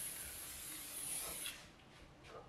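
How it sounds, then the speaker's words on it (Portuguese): Cooking oil spray hisses from a can onto balls of food sitting in an air fryer basket, a steady near hiss for about a second and a half that then fades, followed by a faint short second spritz. "Vamos então colocar o spray em cima."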